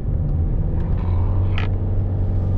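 Car carrying a THULE Motion XT L roof box takes a corner on a winding road, its engine and road noise a steady low rumble throughout, with a brief hiss partway through.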